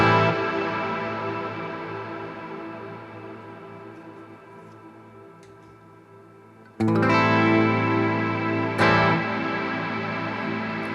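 An electric guitar runs through the reverb of a BOSS GT1000 with flat damp. A strummed chord rings out in a long, slowly fading tail, then two fresh strikes bloom into wide, shimmering reverb.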